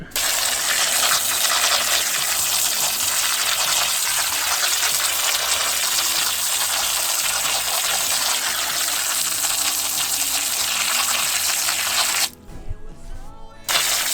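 Water from a hose sprays hard onto a perennial ryegrass lawn, a loud steady hiss and gush lasting over twelve seconds before briefly dropping away near the end.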